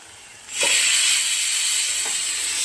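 A sudden loud, steady hiss of steam bursts out of a pressure cooker cooking rice and keeps blowing, close by, with a faint clunk underneath; no voices.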